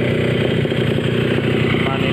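A rebuilt Yamaha RXS 150cc two-stroke motorcycle engine with a 54 mm stroke, 59 mm piston and WJ 125 manifold runs loud and close with a steady, buzzing rattle, unchanging throughout.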